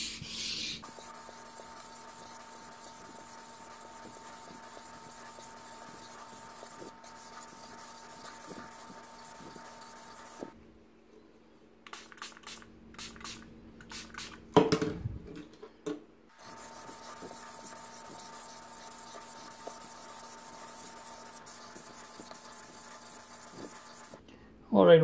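A kitchen knife sharpened on a whetstone, heard as long continuous close grinding strokes with steady scraping texture, broken by a quieter pause with a few light clicks and handling noises before the grinding resumes.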